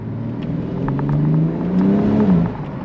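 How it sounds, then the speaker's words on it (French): A 2021 car accelerating, with the engine's low hum rising in pitch as it revs, steady and fairly close, ending in a short drop, without talk. "on va faire une petite accélération"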